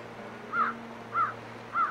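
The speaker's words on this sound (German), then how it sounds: "Herrlich. Krähen." Three evenly spaced caws from a crow ring out clearly over a quiet low hum, each call short and harsh, arriving roughly every half second apart.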